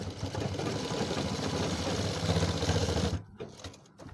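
Sewing machine running a steady stitch along a trouser fly, a continuous close mechanical whir that cuts off abruptly near the end, followed by brief quieter handling.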